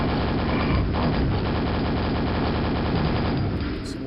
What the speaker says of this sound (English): Just wasted 3 rockets.